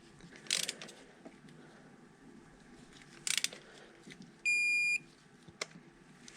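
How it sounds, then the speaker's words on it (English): A torque wrench tightens a Duramax diesel injector hold-down bolt with a few sharp ratcheting clicks, a steady electronic beep partway through and a final click, quiet and close. "Torque your hold-down bolt."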